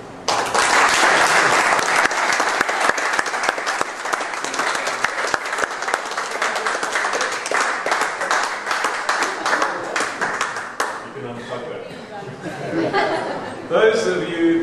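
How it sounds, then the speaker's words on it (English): Loud audience applause fills a corporate debate hall as attendees vote on whether replica furniture has value, dense clapping with a few chuckles running steadily for about eleven seconds before thinning out into scattered claps and murmurs. "please applause now."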